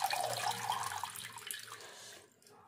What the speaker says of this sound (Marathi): ही भाजी आता मी गाळणीमध्ये काढून घेते, म्हणजे पूर्ण पाणी निघून जाईल त्यातलं।